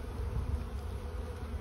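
Honeybees hum in a steady, close, continuous drone during a hive inspection early in the season.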